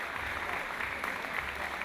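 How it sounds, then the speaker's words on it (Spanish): Sustained applause from a boxing crowd after a main-event fight, dense and steady clapping throughout without a break. "el aplauso del público"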